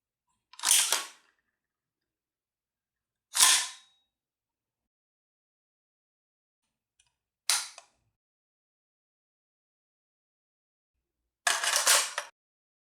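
An AR-15 C7A2-style rifle is cleared by hand. Four separate sharp metallic clacks of the action come close and loud, with silence between them.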